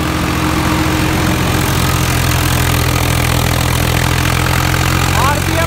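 A tractor engine runs steadily at about 1800 RPM beside a chaff cutter whose belt and cutter nearly caught fire, a loud continuous drone with no let-up throughout.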